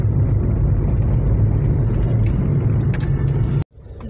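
A diesel car engine rumbles steadily and loudly from close by, a dense low drone that holds throughout before cutting out abruptly near the end, then returning more faintly.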